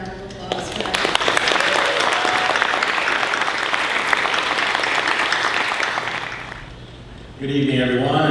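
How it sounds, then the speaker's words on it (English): An audience at a 2021 senior ceremony breaks into sustained, lively applause that fades out near the end, when a voice begins speaking. "Round of applause for that."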